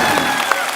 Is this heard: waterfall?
no